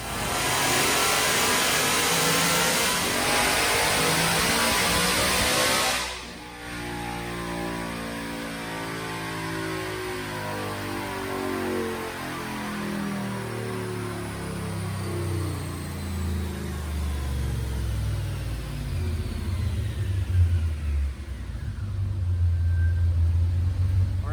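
A supercharged V8 in a 2016 Mustang GT on a dyno pull roars at steady revs, drops off, then climbs steadily in pitch as it accelerates hard, with a high supercharger whine rising alongside the growl.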